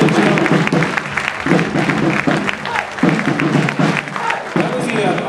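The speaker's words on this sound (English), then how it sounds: "let's congratulate the ISA Committee 2005. Big round of applause." An audience applauds the ISA Committee 2005 at the UMKC Surabhi 2005 show, a dense, sustained roll of clapping from a large crowd that stays loud throughout.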